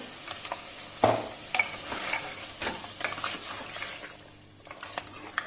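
A pureed fried onion and cashew paste is added to a pan of lamb korma and stirred, a spoon scraping and clinking against the pot over a soft, steady sizzle.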